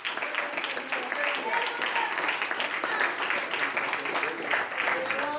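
A church congregation claps in steady, dense applause mixed with voices, at moderate loudness throughout.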